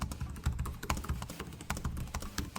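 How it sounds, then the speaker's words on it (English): Rapid typing on the keyboard of an Asus Vivobook S14 OLED (2025) laptop, a dense run of soft, thumpy keystrokes close to the microphone with no voices. "They're nice and thumpy, and they feel satisfying to type on."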